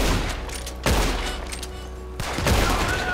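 Gunfire in the Wild West video game Red Dead Online, a close, loud burst of several rapid shots followed by more booming shots with heavy low rumble, no talking.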